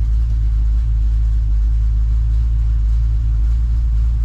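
A 1969 Chevelle's heater blower motor runs on its low setting, giving a loud, steady low hum that stays constant from start to finish with no change in pitch.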